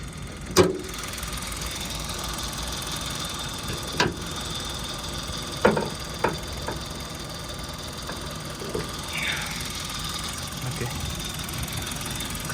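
A 2017 Kia Morning car idles with its hood open, a steady low engine drone close by, punctuated by a few sharp clunks and knocks.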